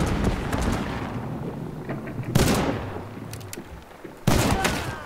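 Gunfire in the video game Hunt: Showdown: one loud shot at the start, then two sharp blasts with long echoing decay, heard over a steady wind-like background.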